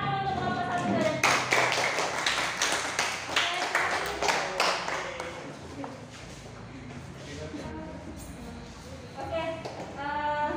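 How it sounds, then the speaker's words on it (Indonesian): A classroom of students claps for groups 1, 2 and 3, a burst of uneven hand claps that fades under a teacher's voice, then scattered taps and talk. "Tepuk tangan dulu untuk kelompok 1, 2, dan 3."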